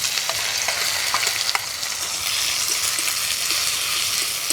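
Chopped onion fries in mustard oil in a wok, making a loud, continuous sizzle with scattered pops and crackles throughout. No voices are heard.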